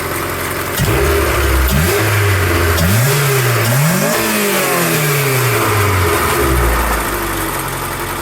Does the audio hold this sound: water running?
no